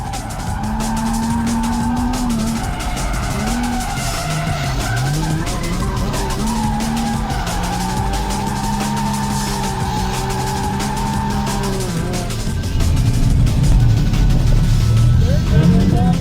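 Cars tandem drifting on a track, tires squealing and skidding with a loud, continuous engine roar that keeps rising and falling, growing louder near the end.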